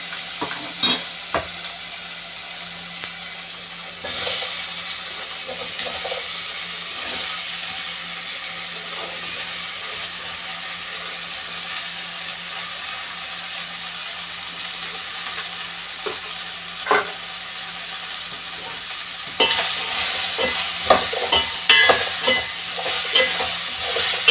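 Vegetables are stirred in a pot of sambar after frying tomatoes, a steady soft sizzle under scattered scraping clinks of a spoon, growing busier and louder near the end.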